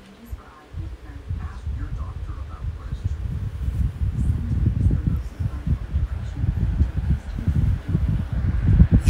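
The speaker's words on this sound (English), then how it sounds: "Here is my 12-inch drum fan. This one actually does move a lot of air. So let's go ahead and run it at full power." A 12-inch drum fan running at full power gives a broad, rushing wind roar that swells in after the first second and stays loud and steady, with gusty buffeting against the microphone.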